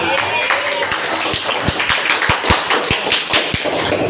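Students clap their hands in a classroom, a run of sharp, evenly spaced claps with a few voices murmuring underneath.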